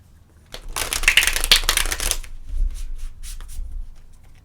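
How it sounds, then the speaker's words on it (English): A deck of tarot cards is shuffled briskly up close, a rapid riffling burst that lasts under two seconds, followed by softer handling and tapping of the cards. "let me give these a quick shuffle"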